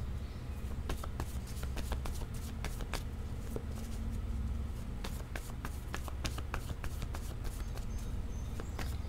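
Oracle cards being shuffled for a reading, a steady run of soft papery riffles and taps close by over a constant low hum, with no talk.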